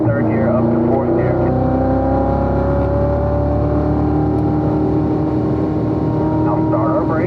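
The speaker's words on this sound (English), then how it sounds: "We're going to accelerate all the way down" A race car engine pulls hard from third gear up into fourth, a loud, close, sustained roar with rising harmonic whine and a brief shift break, while a voice talks over it.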